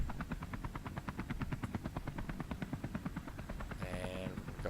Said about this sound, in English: I'm going to rev the engine down to a lower speed